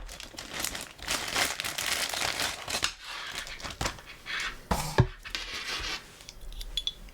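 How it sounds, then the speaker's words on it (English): Close, loud rustling and crinkling of a plastic bag being handled, in irregular bursts with brief pauses and a small tap partway through. "a plastic bag."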